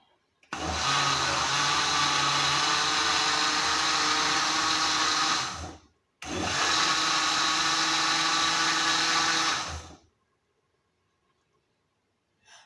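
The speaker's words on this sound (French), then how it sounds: "Je veux passer au mixeur." An electric blender purees hot homemade apple jam in two long, loud, steady whirring bursts, separated by a brief pause and followed by near silence.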